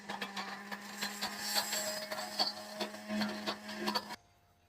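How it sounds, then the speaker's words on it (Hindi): A kitchen grinder whirs steadily as it blends browned onions into a paste for egg kofta curry, a continuous motor hum with a rough, churning texture for about four seconds before stopping abruptly. "तो प्याज ब्राउन हो चुका था तो इसको मैं करूंगी थोड़ा सा ग्राइंड।"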